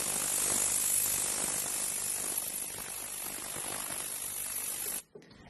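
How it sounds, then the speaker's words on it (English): An ultrasonic jewelry cleaner runs with a steady, loud broadband hiss and hum that holds for about five seconds, then cuts off abruptly, leaving quieter room noise. "This is the Pro Jewelry Cleaner. And this is my normal ultrasonic."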